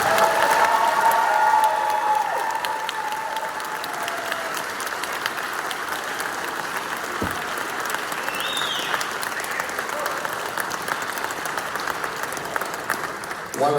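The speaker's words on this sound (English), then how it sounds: "Big round of applause." A school band concert audience applauds the graduating seniors, a dense, sustained clapping from a full crowd that stays loud and steady throughout and then tapers slightly toward the end.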